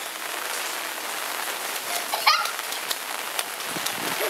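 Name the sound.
rain falling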